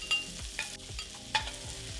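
Seafood sears in a hot pan for surf and turf pasta, a constant low sizzle broken by several sharp scraping and stirring clatters at irregular intervals, close and moderately loud with no talk.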